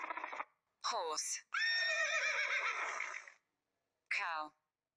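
A horse neighs: a shrill, quavering whinny in separate bursts, with a long shaky middle call and a short final one, close and clear.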